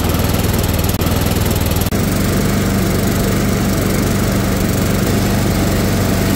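Cub Cadet lawn tractor engine running steadily after a charging-system repair, loud and close, with a constant droning hum and a brief dip near the start.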